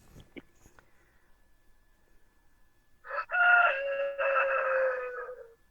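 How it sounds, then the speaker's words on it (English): A rooster crows once, loud and fairly close, in a long drawn-out call after a few faint knocks and a stretch of near silence. "Oh, there's a chicken there, rooster."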